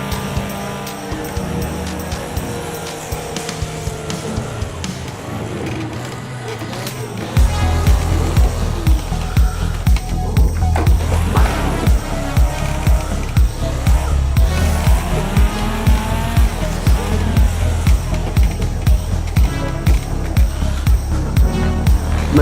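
A car drifts in a VR racing game, with a loud, steady engine drone and tire squeal throughout. Music runs underneath, and a heavy bass layer comes in partway through.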